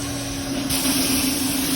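A vacuum cleaner runs in a mobile car-detailing van powered through an inverter, a steady close whining roar over a low hum that swells partway through.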